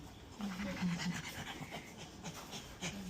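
A nervous woman pants before a smear test in a clinic: quick, rhythmic breaths come close and fairly loud in a steady run of short huffs, with no talk over them.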